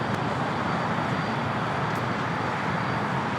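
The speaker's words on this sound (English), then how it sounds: "This is United Airlines 801 taking off to Hong Kong on the 787-9 Dreamliner." A United Airlines Boeing 787-9 Dreamliner departs Los Angeles airport for Hong Kong, its engines producing a loud, steady broadband roar that fills the whole stretch without break.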